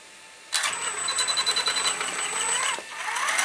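A Traxxas Summit RC truck's electric motor whines steadily under short throttle blips, with a high-pitched drone and slight wavering as it is held at a constant speed.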